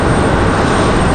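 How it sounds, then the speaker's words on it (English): An Air Wisconsin Mitsubishi CRJ 200LR regional jet on final approach at Raleigh Durham airport gives a loud, close, steady engine roar for a brief moment. "The Mitsubishi CRJ 200LR."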